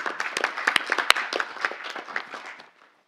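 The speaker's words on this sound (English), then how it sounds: "Give yourself a clap" Applause at a council meeting: dense clapping from many hands rises briskly, holds for a couple of seconds, then thins out and stops.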